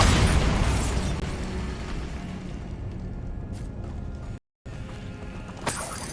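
A Bombarda spell explosion in Hogwarts Legacy bursts with a loud boom that fades into a rumbling decay, then a brief silence and a smaller pop near the end.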